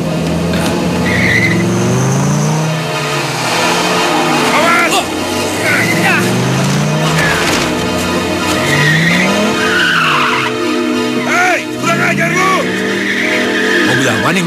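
A car driven recklessly skids, its tires squealing in sweeping, rising and falling whines over a loud, continuous engine roar. Voices can be heard in the mix.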